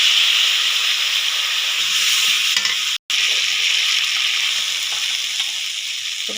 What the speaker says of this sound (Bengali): এরপর দিয়ে দেবো রাইস জলগুলো।